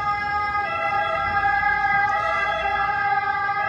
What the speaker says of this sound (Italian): aspettiamo che passi l'ambulanza